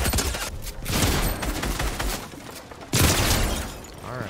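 Bursts of loud shotgun gunfire in a first-person shooter video game, dense rapid shots with one sharp blast near the end, no talking.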